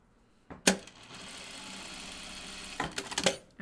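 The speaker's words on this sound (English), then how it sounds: "I'm going to top stitch it to the side." A sewing machine top-stitches a pair of jeans in one steady, close whirring run lasting about two seconds, bracketed by a few sharp clicks and clunks at the start and finish.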